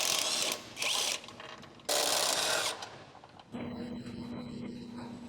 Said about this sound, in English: Using 18mm socket with 21mm wrench to remove rear control arm,